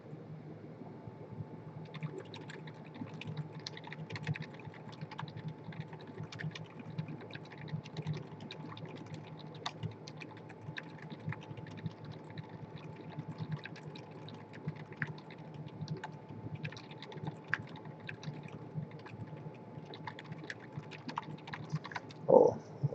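Steady, soft clacking of keys typed quickly and continuously on a muted Dactyl Manuform mechanical keyboard with lubed 67g Zilent switches, close by, with a faint hum underneath.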